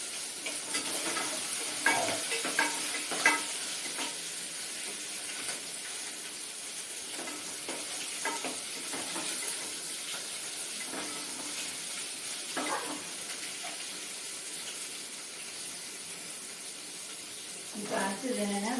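Sambar onions sautéing in a pan for vegetable sambar, giving a steady soft sizzle with occasional scraping stir strokes and light clatter throughout; no one speaks.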